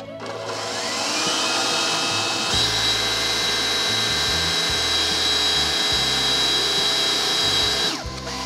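A stand mixer's whisk whipping cream on high speed, a loud, steady motor whine and whirr close by that holds for several seconds and then cuts off, with no talk over it.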